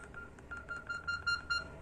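Faint, short electronic keypad beeps from a Samsung Music Guru 2 phone sound in a quick irregular series, several tones in under two seconds, over quiet background noise.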